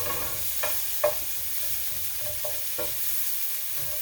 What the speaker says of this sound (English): So I usually cook it until you get both sides of the sausage a little brown.